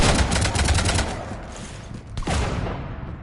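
Sustained automatic gunfire from a Mass Effect 3 firefight aimed at a ship, dense rattling bursts for about a second, then scattered shots and a sharp crack later, all fairly loud.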